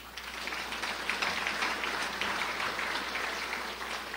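Applause from an audience at a Crown Point State of the City address, steady, moderately loud clapping that holds evenly throughout the short stretch.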